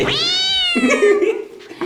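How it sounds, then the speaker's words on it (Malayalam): A cat meows once, a long, clear, tonal call that bends at the end, close and loud, with a short trailing murmur after it. "നീ ആരാ പൂച്ചേ?"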